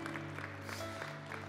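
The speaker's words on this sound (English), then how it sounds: "Let's clap our hands for those who are giving their life to Christ." A church congregation claps hands together in a brief, faint burst of steady applause, with sustained musical tones holding underneath.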